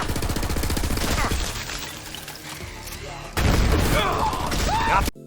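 Legendary weapon firing in Borderlands 3, a dense rapid burst of game gunfire that steps louder partway through and runs loud to the end, with a voice talking over it.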